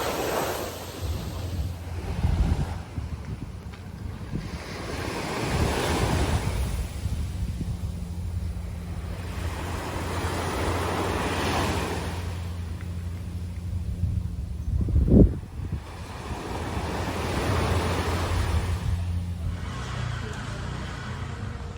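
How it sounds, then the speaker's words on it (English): Rough surf after storms on the coast of Koh Samui, Thailand, washes in as a broad, steady roar with gusting wind noise across the microphone, swelling in slow surges every few seconds, one sharper thump near the end. "Looks like the waves are still pretty rough from all the storms that are around the area."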